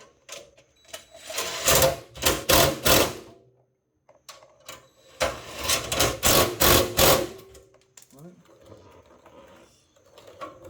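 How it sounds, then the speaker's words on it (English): A power tool drives 11mm stainless bolts into a bracket on a Hellcat car in two loud rattling bursts of quick impacts, separated by a quiet pause, with a short softer mechanical sound near the end. "I'm going to tighten our bracket up."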